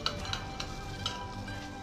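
Mie goreng ingredients seasoned with pink salt are mixed in a pan, giving a steady soft sizzle with a few light scraping taps near the start and middle.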